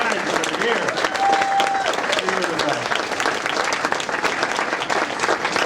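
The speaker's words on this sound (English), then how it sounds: "And everybody, give them another round of applause, including that junior class." A banquet crowd at a high school sports hall of fame induction claps in sustained applause, with a few voices calling out over the steady clapping.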